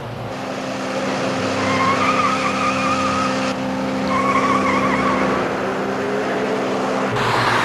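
A runaway car doing 110 mph tears past on the road, a loud engine roar with rising and falling tire squeal heard close, in two surging waves before it fades.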